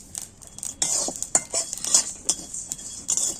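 Poppy seeds roasting over low heat in a pan with cumin for a spicy Bengali chicken curry, heard as a steady faint sizzle with repeated scraping and clinking of a spoon against the metal pan.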